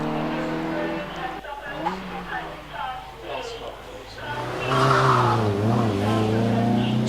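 A race car climbs the hill at the Prescott hillclimb, a Midland Championship event. Its engine hums steadily at a distance under continuous commentary and swells louder near the end.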